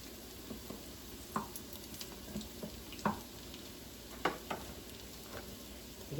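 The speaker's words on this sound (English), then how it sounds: "It can be in the frying pan by itself." Salmon patties fry in a frying pan with a quiet, steady sizzle, broken by a few sharper pops and crackles close by.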